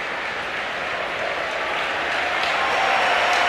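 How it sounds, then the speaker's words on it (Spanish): Stadium crowd at the Carlos Tartiere in Oviedo gives a sustained ovation during a preseason football match, a dense roar of clapping and cheering that swells slightly louder toward the end, with no clear speech. "la tremenda ovación del público del estadio Carlos Tartiere"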